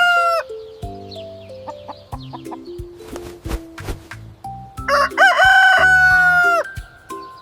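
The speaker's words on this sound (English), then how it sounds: "Yes, it's a rooster." A rooster crows loudly over a background of synthesized, toy-like music notes, the call rising and holding near the end before a short fade.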